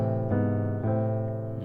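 Piano voicing with a B placed an octave lower, three quiet chords struck in slow succession and held, soft and close.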